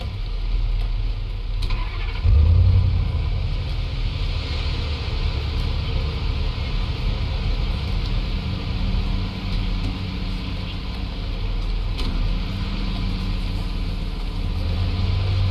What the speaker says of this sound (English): we are actually going to move our vehicle here